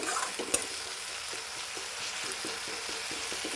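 Onion and softened tomato frying in a pan for a dhaba-style egg curry, stirred with a steady sizzle and light rhythmic scraping strokes, plus one sharp knock near the start and no talking.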